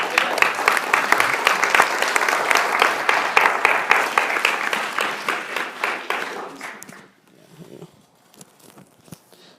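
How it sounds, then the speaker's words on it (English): Audience applause at a summer fitness finale: a burst of brisk, close clapping from a modest crowd that thins out after several seconds, leaving scattered faint claps and quiet room sound. "How about a big round of applause for them?"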